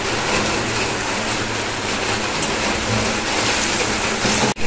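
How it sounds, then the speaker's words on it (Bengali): Steady rain falling outside, a dense continuous patter that stays loud and unbroken, with a brief dip near the end. "বাইরে বৃষ্টি পড়ছে আর ওই যে দেয়ালে দেখছো ফোটা ফোটা বৃষ্টি হচ্ছে"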